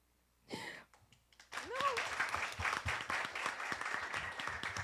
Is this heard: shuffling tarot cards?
no